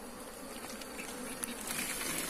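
Wild forest bees swarm around their freshly dug-out nest, giving a steady, hissy buzzing drone that stays close and fairly even throughout with no speech.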